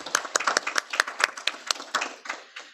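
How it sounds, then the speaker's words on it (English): A brief, fairly quiet round of clapping from a small group at a school board meeting: a few seconds of scattered hand claps that fade out. "A little applause."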